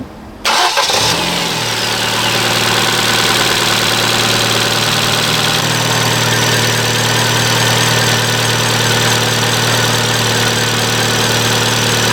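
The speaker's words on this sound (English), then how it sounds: "Go for main engine start." A 2009 Ford Fiesta engine cranks briefly and catches, then settles into a steady, close idle with a constant hum and belt whine after an alternator replacement, with no talking.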